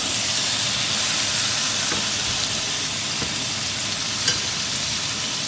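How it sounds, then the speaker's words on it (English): Steak fries with butter in a pan, a steady hissing sizzle that holds at an even level throughout, with a faint tap or two on top. "Turn that steak with the butter."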